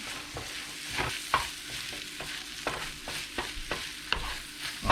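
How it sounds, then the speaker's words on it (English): Rice for corn fried rice frying in a pan, a soft steady sizzle under rhythmic scraping stirs, with several distinct spatula knocks spaced through the clip. "Just put half the rice in and"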